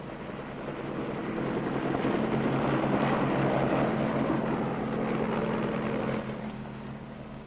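A Marine helicopter lifting off from an aircraft carrier deck: a steady, loud rotor and turbine roar with a low droning hum, swelling and then easing slightly near the end.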